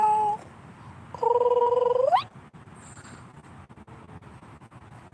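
A cat meows twice, a short high cry and then a longer drawn-out one rising at the end, over steady outdoor background noise in a sunken garden.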